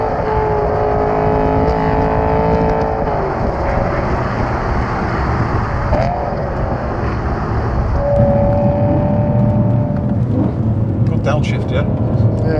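BMW M3 with a V8 engine driving and downshifting, a steady loud engine drone inside the car with revs rising and falling as gears change, voices talking over it throughout.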